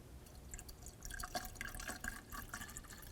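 Liquid coolant poured into the radiator of a 2001-2005 BMW 325xi during a water pump replacement, a close, steady trickling and dripping splash that runs throughout.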